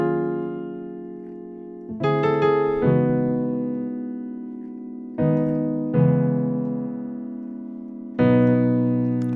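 Piano slowly playing the loop from a song: a sequence of held chords struck one after another at a relaxed pace, each ringing and fading before the next, alone and clear.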